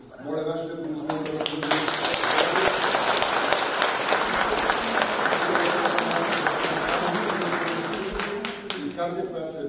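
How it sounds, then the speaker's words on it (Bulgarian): A hall audience at an anniversary international student science conference and exhibition bursts into loud, sustained applause, dense and even for several seconds, with a speaker's voice heard briefly before it swells and again as it tapers off. "Моля вашите аплодисменти."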